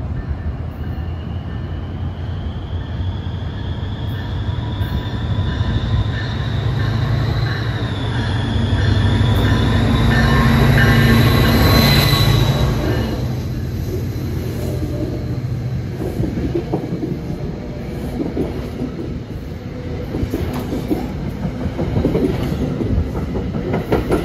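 A New Jersey Transit yard move pulled by a diesel locomotive rolls past loudly with a steady rumble and rhythmic wheel clatter. High wheel squeal rises and fades partway through.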